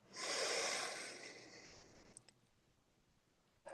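A single slow, deep inhale through the nose during a guided mindfulness session in a meditation circle: a soft, airy rush that swells quickly, then tapers off into near silence, close and fairly quiet.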